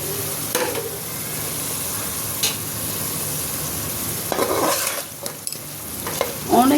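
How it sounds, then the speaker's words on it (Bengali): Potatoes and onions sauté in a pan with a steady, soft sizzle, broken by a few scraping stirs and clinks of a utensil toward the end. "আমি খুব ভালো করে সটে করে নিব"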